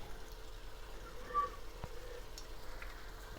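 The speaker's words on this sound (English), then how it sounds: "That's it, it's sizzling away beautifully." Wine sizzles steadily in a hot pan for linguine alle vongole, a continuous close hiss with soft crackles and no talk.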